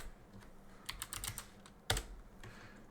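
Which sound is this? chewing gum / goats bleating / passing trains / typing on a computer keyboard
typing on a computer keyboard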